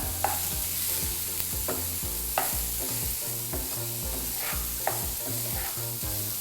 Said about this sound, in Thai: ทีนี้ใช้เวลา ผัดแบบนี้นะครับ ด้วยไฟต่ำๆต่อย ประมาณสัก 2ถึง3นาที